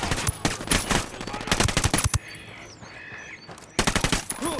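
Rapid automatic rifle bursts in the video game Wildlands, loud and close, rattle off in quick strings, pause briefly while softer game sounds and distant tones come through, then start up again.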